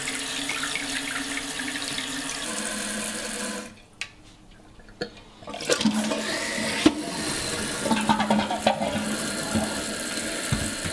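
Water runs into the tank of a newly installed toilet after the supply is turned on, a steady hissing flow that drops out briefly and then resumes, with faint clicks and knocks of the fill mechanism.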